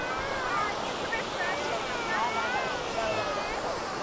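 River rapids in Bali roar as a continuous broadband rush of water, loud and steady throughout, with a voice faintly audible beneath it.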